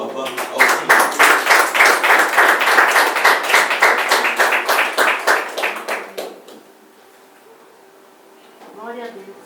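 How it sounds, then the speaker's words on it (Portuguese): A church congregation clapping in praise to the Lord, a loud rhythmic burst of steady, evenly spaced claps for about six seconds that stops abruptly, followed by quiet with a faint voice near the end. "E as palmas do louvor ao Senhor"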